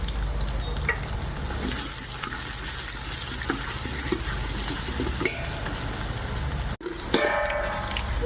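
Dried red chillies and finely chopped onion fry in hot oil for a tempering, giving a steady close sizzle with light stirring scrapes throughout and a brief break near the end.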